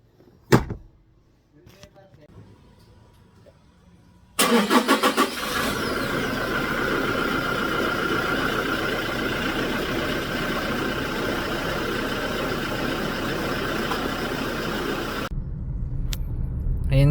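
A Toyota Hilux engine, freshly changed to Aisin 5W30 fully synthetic oil, runs steadily and fairly loud through a test drive after a brief quiet start, with a door-like knock near the beginning and no speech over it.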